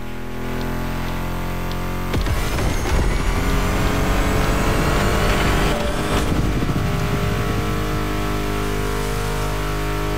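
Car engine in The Crew Motorfest off-road racing on PC, droning and revving loudly and steadily throughout, with surges in pitch around the middle and music-like tones layered over it.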